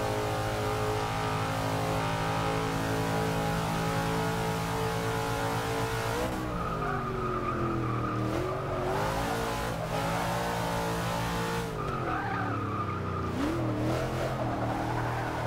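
A Dodge Daytona Charger in the video game Forza 6 revs and locks up its tires under braking, with squealing skids rising and falling over a continuous engine roar.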